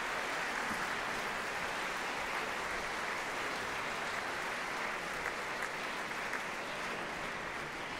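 A concert audience and orchestra applaud a new recorder concerto, a dense, steady wash of clapping from a large hall crowd that holds without break for the whole stretch.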